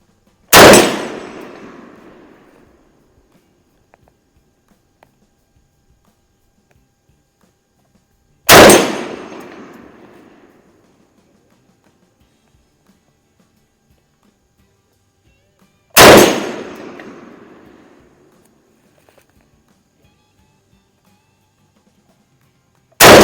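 Rifle fire from an Enfield No. 5 Mk1 Jungle Carbine and a Chinese Type 56 SKS: three loud single shots spaced roughly eight seconds apart, each a sharp crack with a ringing, reverberant decay, with silence between.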